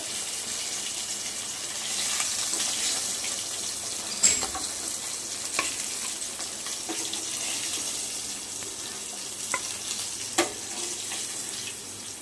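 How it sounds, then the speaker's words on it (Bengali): Pieces of fish, part of a batch for a doi katla curry, fry in hot oil with a steady, fairly quiet crackle and hiss, broken by a few sharp clinks of a utensil as pieces are lifted out. "আমার কিছুটা মাছ ভাজা হয়েছে, বাকি মাছগুলো আবার ভেজে নেব"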